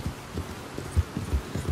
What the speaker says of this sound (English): I really like that horse